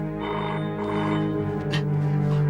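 A telephone rings in repeated bursts of trilling bell tones over a steady low hum, fairly close and clear.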